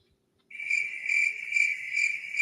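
Crickets chirp in steady pulsing trills after a brief silence, bright and continuous, with no voices present.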